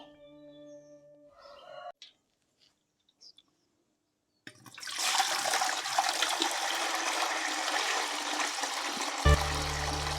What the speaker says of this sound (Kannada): ಇದಕ್ಕೆ ಇವಾಗ ನೀರು ಹಾಕೋಣ